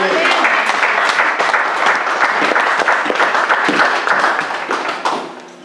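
A congregation at a church service claps loudly and continuously, the applause dense throughout before thinning out in the final second.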